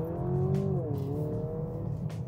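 A 2023 Mercedes GLC 300e SUV in sports mode accelerates hard from inside the cabin, a steady engine drone rising smoothly in pitch, then a brief dip as it shifts, with faint tire and road noise.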